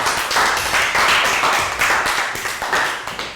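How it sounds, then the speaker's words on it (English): A Year 3 maths class gives a brisk round of applause. Many children clap close by in a busy, uneven patter that fades toward the end, with no speech over it. "And round of applause for Chu."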